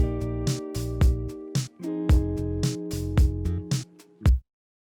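A programmed bedroom pop groove of punchy slap bass notes and plucked guitar-like tones in a steady rhythm, loud and close, stopping abruptly at the end.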